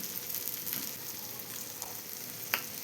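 Masala-coated fish frying in a pan, giving a continuous close hissing sizzle with scattered small pops and spatters, moderately quiet and without talk.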